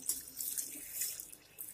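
Water poured into a pot of vegetables and turmeric for Chettinad idli sambar, a close, steady splashing stream with slight surges and dips, heard alone.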